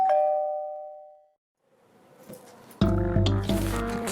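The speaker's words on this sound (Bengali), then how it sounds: "calling bell" A doorbell chimes at night: a single sustained tone that fades into silence, followed after a pause by a louder ringing melody of bright layered tones up close.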